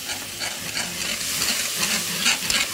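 Cream being stirred in a pan, a steady soft scraping and bubbling hiss running throughout with small brighter swishes, close and moderately loud, no voices.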